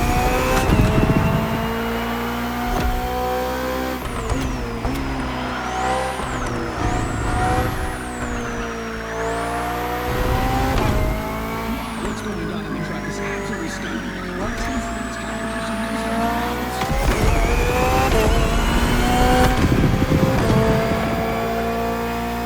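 A BMW hybrid V8 race car in the racing game The Crew Motorfest, its engine rising and falling through gear changes with a whining high pitch, loud and close throughout a short race.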